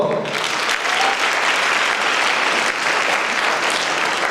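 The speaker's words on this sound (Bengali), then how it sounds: "সবাই জোরে করতালি দিব" A crowd applauds steadily for a group gathered on stage at a celebration, dense clapping sustained and fairly loud throughout with no pause.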